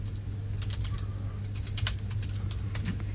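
Quick, irregular tapping of keys on a computer keyboard, moderately close, over a steady low hum in a radio studio, with no talking.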